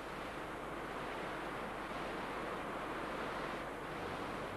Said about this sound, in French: nous sommes au bord de la Lemme. C'est une petite rivière